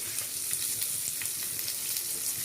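Chopped onions and green chillies fry in hot oil for a spicy chicken Kolhapuri, giving a close, steady hissing sizzle dotted with small crackles and pops throughout, with no voices.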